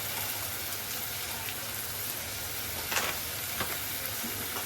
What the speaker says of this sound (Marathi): आता हे मसाले सगळे मी परतून घेते तेलात